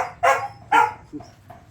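A boar-hunting dog gives two loud, close barks followed by two softer yips, with a short pause between each in an otherwise quiet setting.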